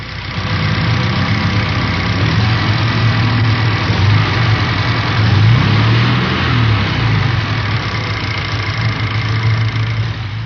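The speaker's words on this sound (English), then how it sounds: "Now listen to an engine with a cracked or broken pulley." A Volkswagen engine with a cracked or broken pulley runs steadily and loudly up close, with a continuous low rumble and a faint rhythmic knock and rattle throughout.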